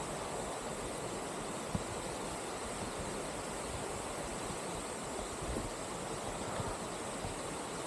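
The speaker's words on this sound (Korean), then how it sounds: "폭포가 가까워오고 있습니다." A waterfall in a Chiaksan mountain valley, heard as a steady broadband rush of falling water, constant and fairly faint throughout with no voices.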